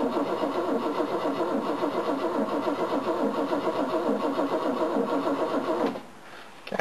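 An old car's engine cranks steadily without firing, a dense, even churning rhythm that runs for about six seconds and then stops, leaving a quieter tail.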